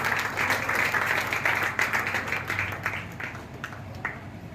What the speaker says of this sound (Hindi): ताली ताली बजाइए आपको।